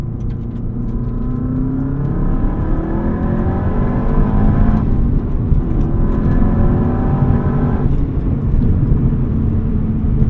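A 2003 Subaru WRX STi S202 engine revs loudly and close during rev-matched downshifts, the pitch climbing in steady sweeps and snapping back twice as gears change, continuous and alone without talk.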